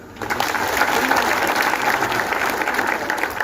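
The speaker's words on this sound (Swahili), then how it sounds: "Mungekuwa mmepiga makofi." An audience at a gathering addressed by a bishop breaks into dense, steady applause that rises quickly and holds for about three seconds, with a faint murmur of crowd underneath.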